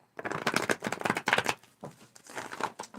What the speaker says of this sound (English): She said leave that card, give it one more shuffle.